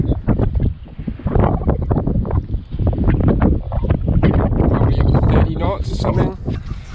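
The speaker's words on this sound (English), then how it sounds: "It's pretty gusty." Gusty wind over a boat riding at anchor, heard as loud, close buffeting and rumbling microphone gusts that surge and ease continuously.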